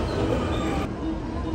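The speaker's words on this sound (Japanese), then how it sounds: "こちらが先行する金沢からやってきた大阪行きの特急サンダーバードですね。" Steady broadband rumble of a Thunderbird limited express train from Kanazawa bound for Osaka moving past a busy station platform, loud and continuous with rolling wheel noise and a faint high squeal throughout.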